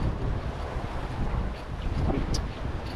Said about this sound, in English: it's pretty cold out here in the wind